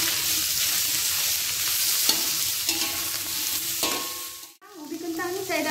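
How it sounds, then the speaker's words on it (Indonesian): Potato pieces frying in ghee in a pan for a masala thosai filling give a steady, close sizzle, with stirring scrapes and clicks throughout and a short dip near the end. "Masukkan ubi kentang, goreng dulu"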